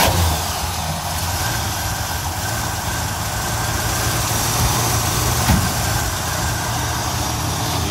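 An Oldsmobile 98 engine with factory exhaust manifolds runs at a steady idle, a continuous low rumble with no breaks, heard alone without talk.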